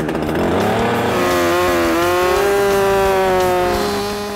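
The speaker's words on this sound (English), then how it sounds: "When Elvie gets a chainsaw in his hand, you never know what's gonna happen" A chainsaw near a Montana log mansion build revs loudly up and down, its harsh two-stroke whine rising and settling into a steady high pitch as it bites into big pieces of wood, with no talk over it.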